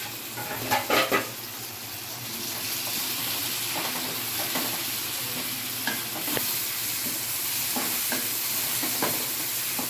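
Onions sauté in a pan for Chettinad prawn gravy with a continuous close sizzle, a few metallic clanks early on and occasional soft scrapes of stirring; nobody speaks.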